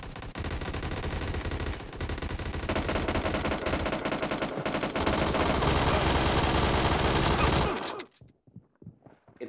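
Dense, sustained PUBG Mobile gunfire in a team deathmatch, with rapid automatic bursts, loud and continuous, ending abruptly into a few scattered shots.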